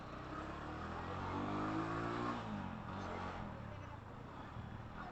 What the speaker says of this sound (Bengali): আমি আজকে রাইড করতেছি আমার লিফান K19 বাইকটি